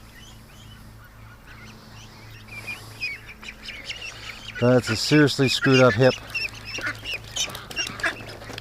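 A duck with a badly injured hip gives a loud, close burst of raspy quacks about halfway through, while someone talks quietly over a steady background hum.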